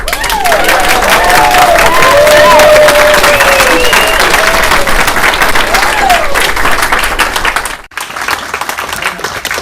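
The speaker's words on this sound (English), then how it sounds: "Clap for everybody." Audience members at a city council meeting clap and cheer loudly and steadily, with scattered voices and whoops above the applause before it cuts off abruptly near the end and a quieter murmur follows.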